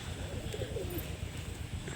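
A female fancy flying pigeon coos softly, with a low, faint, murmuring call that runs continuously through a short, quiet moment and has no talk over it.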